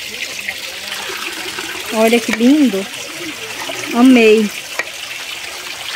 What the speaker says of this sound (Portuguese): Olha aqui, gente, que perfeição essa cascata.